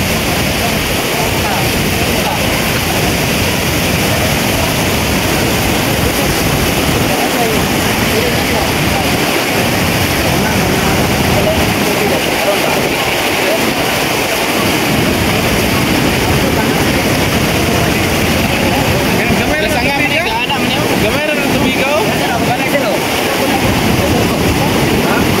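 Strong floodwater rushes loudly and continuously during Typhoon Tino, a dense roaring surge mixed with wind buffeting, while people talk faintly underneath.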